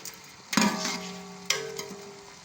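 Pigeon meat browning in a hot pot for pulao, with two sharp bursts of sizzling as pieces are stirred, each settling into a steady quieter fry.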